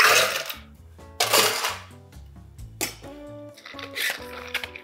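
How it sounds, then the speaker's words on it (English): Ice is scooped into a metal cocktail shaker holding lime juice and simple syrup: several bright, clattering bursts of cubes striking the metal, each followed by short ringing rattles, close and fairly loud. "Load it up with ice."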